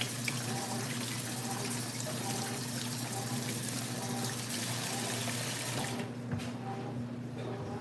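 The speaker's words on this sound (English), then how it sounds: "I'm gonna rinse my hands off." Water from a kitchen faucet runs steadily as hands are rinsed beneath it, a constant close splashing hiss that continues throughout, with a brief shift in the flow near the end.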